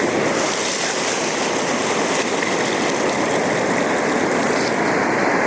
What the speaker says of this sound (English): Okay, here comes the wave.